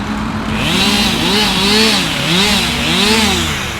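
A chainsaw cuts through ash trees with dieback during felling work, its engine rising and falling in pitch in repeated surges, loud and close, heard alone.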